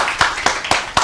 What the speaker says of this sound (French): Applaudissez pour les filles.